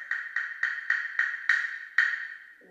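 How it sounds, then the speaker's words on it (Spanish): A wooden caja china, or Chinese wood block, struck six times in an even rhythm, each knock sharp, hollow and clacky, fairly close with a brief ring. "Y la caja china suena así."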